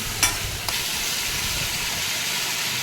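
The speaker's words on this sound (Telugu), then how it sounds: "తర్వాత ఉప్పు, అల్లం వెల్లుల్లి పేస్ట్ యాడ్ చేసుకొని మిక్స్ చేసుకోవాలి." Green chilies, salt and ginger garlic paste frying and stirred in a hot pan, giving a steady bright sizzle with two brief spoon knocks near the start; no talking.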